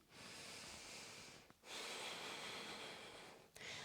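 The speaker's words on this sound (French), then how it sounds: "On inspire, on expire par le nez." Breathing in and out through the nose during an upper-body exercise routine, a close, steady airy rush sustained for over a second, a short pause, then another long exhale, with no speech.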